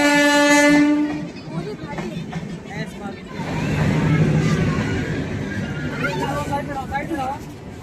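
A train at Karnalganj railway station in India sounds a loud horn blast at the start, followed by a rumbling, rattling passage of rail cars, with people talking nearby.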